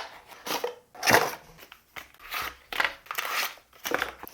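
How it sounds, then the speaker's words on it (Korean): Opening the package of a Rockbros U8 dual-lens bicycle headlight brings a series of about six close, crinkly rustling and crunching bursts of packaging material, evenly spaced with short pauses between them. "먼저 빠르게 제품 언박싱 한번 해보도록 하겠습니다"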